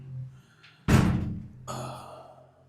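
Door in a house pushed shut with one heavy, close thud that rings out and fades, followed by a softer rustle and a faint breathy sound.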